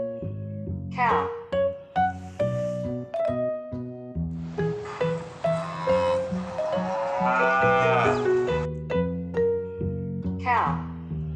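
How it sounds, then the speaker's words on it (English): A toy or recorded cow moos repeatedly, with several long lowing calls over a steady layered musical backing throughout, loud and close. "Cow."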